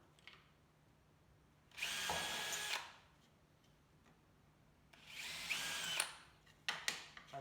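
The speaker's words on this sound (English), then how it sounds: "Just stops me drilling into my bench." A power drill fitted with a high speed steel bit bores into scrap wood on a workbench while building sanitiser stations, with two quiet bursts of a couple of seconds each, then a few brief clicks.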